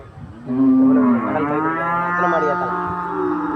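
A cow moos loudly and close by at a cattle market in Aranthangi, one long drawn-out call lasting about three seconds with no talking over it.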